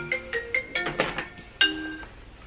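A phone ringtone going off indoors, a short run of bright electronic melody notes repeating in quick, clear pulses, close and alone.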